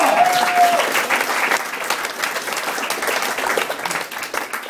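A crowd applauds steadily, dense clapping close by, with a brief whoop at the start that fades into continuous clapping.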